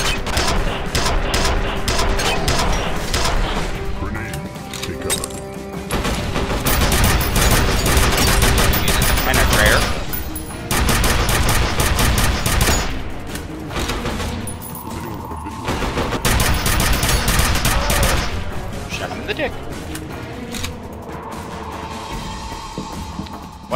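Sustained bursts of automatic gunfire in the shooter F.E.A.R.: Perseus Mandate, loud and near, with rapid fusillades broken by brief pauses and a few sharp single shots, set against game ambience.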